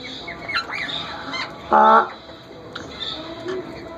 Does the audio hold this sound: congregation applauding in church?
no